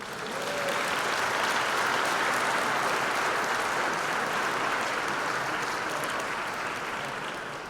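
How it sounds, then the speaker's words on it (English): Steady crowd applause fills a hall at a mayor and council swearing-in ceremony, a broad, continuous wash of many clapping hands at moderate volume that swells slightly and tapers near the end, with no voices over it. "Now you may applaud."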